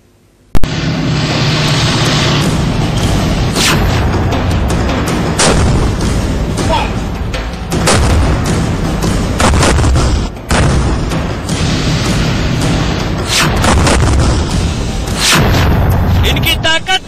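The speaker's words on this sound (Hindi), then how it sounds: "सेना ने अपने सबसे ताकतवर टैंकों से गोले दागे," Army tanks firing shells during a military exercise: a dense, continuous barrage of heavy booms and blasts, loud and close, with repeated sharp reports over a constant roar for the whole stretch.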